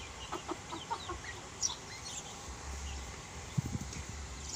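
Young chicks cluck and peep softly while pecking at scattered feed and greens, brief calls spread across a quiet outdoor background with faint rustling.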